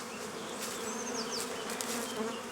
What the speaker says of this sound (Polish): Tu jeszcze pszczoły coś penetrują